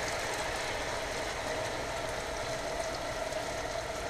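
Marinated beef sizzles steadily in a large hot frying pan, a constant close hiss with no pauses and no talking.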